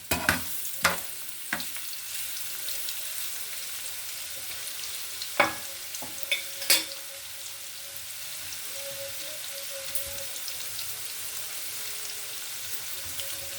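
Oil frying onion, chili and spice paste in a pan, a steady soft sizzle broken by occasional sharp clacks and scrapes of stirring, with no one talking.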